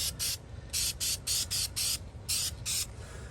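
Spray paint hissing onto a plastic Chevrolet Volt bumper in short repeated bursts, about nine quick sprays with brief pauses between, close and steady.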